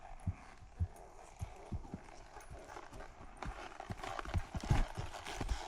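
Horse hooves clip-clop in a steady trotting rhythm on firm ground, growing a little louder and busier toward the end.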